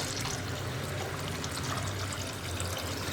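Water poured into traditional tamarind rasam sitting over the flame on the stove, a steady, dense splashing pour that holds at an even level for the whole few seconds.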